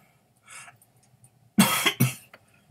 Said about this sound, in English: So I'm coughing so much,